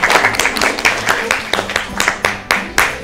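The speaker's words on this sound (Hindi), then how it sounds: "इनके भी जबरदस्त अंडरस्टैंडिंग के लिए जोरदार तालियां जी।" Studio audience clapping on a Hindi-language television show, a sparse group of hands beating in an uneven, loose rhythm of distinct claps for about three seconds, fairly close and with no talk over it.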